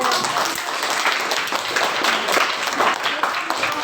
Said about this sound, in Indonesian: Untuk terima kasih untuk kelompok 3, tepuk tangan dong.